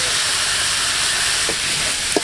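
Onions sautéing with salt in a pan for a snail gravy, a steady broadband sizzle that fills the whole clip, with a couple of brief stirring scrapes near the end and no talk.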